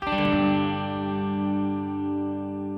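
An electric guitar with reverb strikes a single distorted chord that rings out in stereo and decays slowly, with a washy tail.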